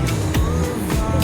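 Street traffic on a hot day in Melbourne, with cars passing close by in a steady, loud wash of engine and tyre noise. Two or three vehicles sweep past in quick succession.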